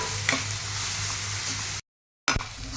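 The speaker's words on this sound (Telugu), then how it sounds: "ఇవన్నీ మరొక పది నిమిషాలు వేగనివ్వాలి" Onions with ginger paste, salt and turmeric fry in a pan with a steady, close sizzle and light stirring, cut off by a brief silence before the frying resumes.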